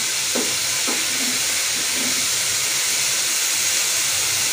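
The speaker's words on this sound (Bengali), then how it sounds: "সেই জন্য আর কি প্রেসার কুকারে রান্না করতেছি" A pressure cooker steams on a stove while rice cooks, giving a steady, loud broadband hiss that runs unbroken from start to finish, with a few faint knocks early on and no voices.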